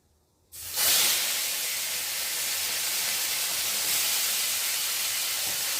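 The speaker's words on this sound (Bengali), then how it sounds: "আর এখন আমি টমেটোগুলো দিয়ে দেবো" Tomatoes dropped into a hot pan of tempered chillies for chutney: silence, then a sudden loud burst of sizzling hiss that settles into a steady, strong frying roar.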